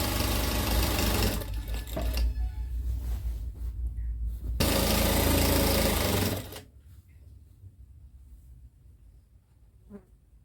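A sewing machine stitches the hem of a lungi in loud, rapid runs, pausing briefly once, then stops after about six seconds, leaving a quiet room with a faint click.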